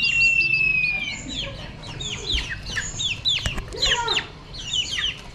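Clucking and peeping from wild junglefowl chicks and hens, with repeated high chirps and soft clucks close by throughout.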